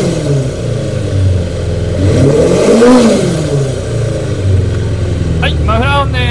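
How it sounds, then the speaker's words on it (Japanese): A Kawasaki Zephyr 400 motorcycle engine runs close by, its inline-four note climbing into a loud rev around the middle and then settling back to a steady idle. Brief voice-like tones come in near the end. "では エンジンの方を始動していきます。"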